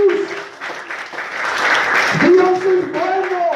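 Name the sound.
applause for Christ in a church service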